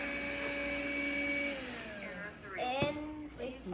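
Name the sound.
robot vacuum cleaner running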